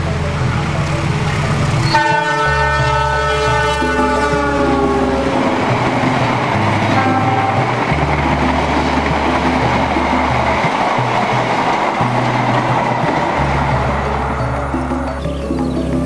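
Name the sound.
passenger train passing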